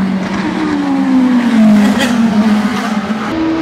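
Indy race cars at speed on the Honda Indy Toronto street circuit: a loud, high engine whine sweeps down in pitch as a car passes close, with a second engine note rising near the end.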